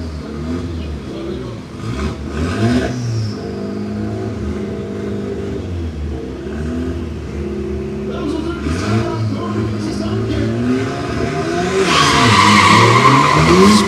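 Drag racing cars launching side by side at a Florida dragstrip, tires spinning and squealing over loud revving engines, with a harsh skid building near the end amid crowd noise and nearby voices.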